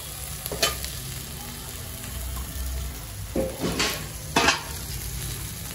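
Soybean chunks frying in oil in a pan, a constant low sizzle punctuated by a few sharp metal spatula scrapes and clinks against the pan; no talking.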